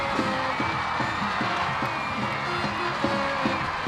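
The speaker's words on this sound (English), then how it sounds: "finally the crowd can celebrate a goal in this game" Stadium crowd at a women's field hockey match between Great Britain and Korea roaring and cheering after a goal, a dense, sustained wash of voices with whoops, loud and continuous throughout.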